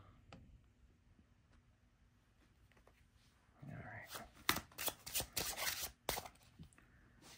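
Quiet handling gives way to a burst of crisp riffling and snapping shuffles of a new Star Maiden tarot deck, close and fairly loud, lasting a few seconds.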